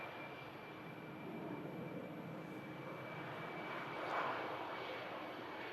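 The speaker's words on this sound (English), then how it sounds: "Cool to see an A319 from Finnair operating out to Helsinki." A Finnair Airbus A319 jet at Manchester Airport gives a steady, fairly distant broadband roar that swells slightly toward the end, with no voices over it.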